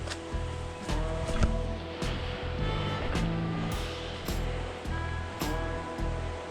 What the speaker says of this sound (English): Ooh, I hear the water.